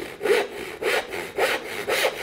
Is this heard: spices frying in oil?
no